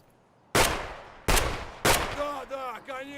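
Buckshot shotgun fire in Escape From Tarkov, three loud, close booming blasts roughly 0.7 seconds apart, each with a decaying tail, followed by a brief voice.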